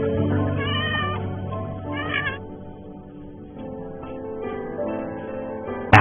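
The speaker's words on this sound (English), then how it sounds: "Just by the sound of this cat's meow, you can instantly tell that it's in serious danger and in desperate need of immediate help." A cat meows loudly and insistently in distress, its repeated harmonic cries rising and falling close to the listener, with a sharp sudden noise at the very end.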